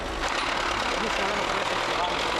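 A tractor engine runs steadily in a village inside the Chernobyl exclusion zone, a close, continuous rumbling drone with a low throbbing beat, while a voice talks over it.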